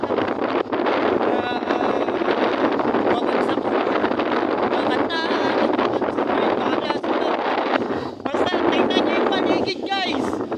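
Strong wind buffets the microphone in a steady roar at the seaside, with faint voices and splashing of children swimming underneath.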